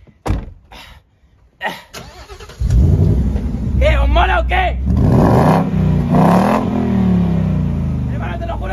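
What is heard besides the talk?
car engine starting and revving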